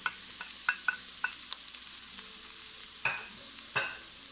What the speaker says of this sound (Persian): داخل یک قابلمه 1-2 قاشق روغن میریزیم و پیاز متوسطی رو که داشتیم به صورت نگینی های خیلی ریز خورد میکنیم و به قابلمه اضافه میکنیم